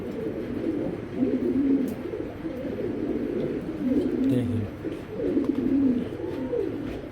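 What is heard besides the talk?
Afsan grizzle racing pigeon cooing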